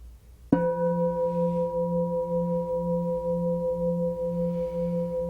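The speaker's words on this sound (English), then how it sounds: "Allow the tones of the gongs to simply wash through you." A meditation gong struck once, a sharp attack followed by a long, steady humming sustain with clear ringing overtones and a gentle pulsing beat, close and alone.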